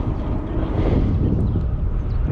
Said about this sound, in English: Yeah, I know it's windy.